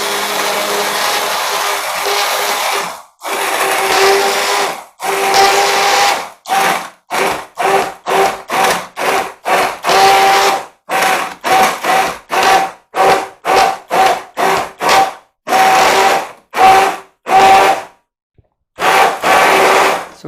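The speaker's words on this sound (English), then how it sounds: "So I'm just going to give it a blitz." Blender pureeing hot home-grown tomato soup, loud whirring motor run in a series of short bursts with brief pauses between pulses, alone without talk.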